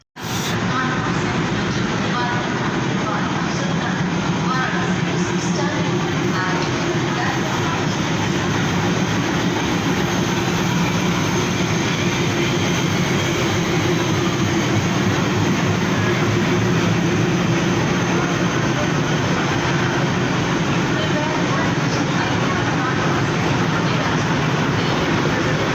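A railway station platform with trains, where a loud, continuous rumble and rhythmic clatter of passing rail cars runs for the whole stretch under a busy background wash.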